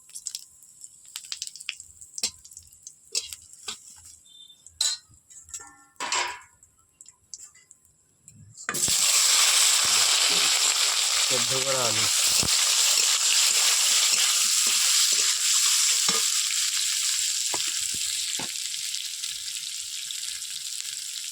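Cumin, bay leaf and dried chilli hit hot oil for a fish curry, bursting into a loud, steady sizzle after some quiet kitchen clatter, then hissing on without a break.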